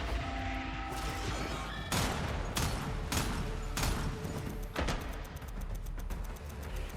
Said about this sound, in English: Rockets once again solving all problems.